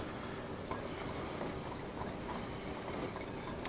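Waffle batter being mixed in a bowl, a soft continuous stirring with faint scraping strokes, quiet and close, no voices.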